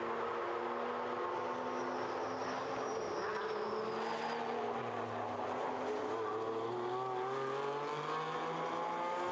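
GT race cars on track during SRO GT Cup qualifying at Zhuhai, engines rising and falling in pitch as they pass, fairly distant and blended with circuit ambience.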